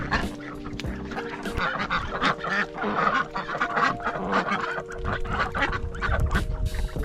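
Large white Aylesbury ducks honk and quack loudly at close range in a repeated, overlapping chorus, with a low rumble of background noise throughout.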